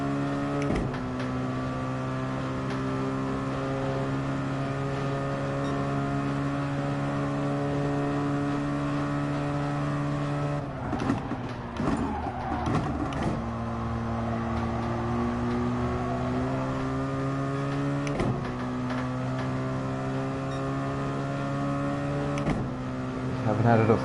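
FIA GT-class race cars in Gran Turismo Sport drone at high revs. The engine whine holds steady, shifts pitch at a few gear changes, and voices talk over it throughout.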